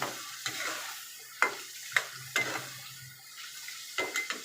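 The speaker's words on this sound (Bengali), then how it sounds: "আগে আলুটা দিই একটু নেড়ে চেড়ে তারপর মাছটা দিয়ে দিব" Potatoes being stirred in a frying pan: a series of sharp spatula scrapes and clinks against the metal, irregular and close, over a quiet sizzle, with no talking.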